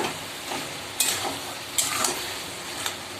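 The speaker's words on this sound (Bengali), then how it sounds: "মিষ্টি দিয়ে আবারও ভালো করে কষাবো। ভালো করে এটাকে কষিয়ে নিচ্ছি।" Ash gourd greens sweetened with sugar frying and being stirred in a pan: a steady close sizzle with a few sharp scraping stir strokes spaced through it.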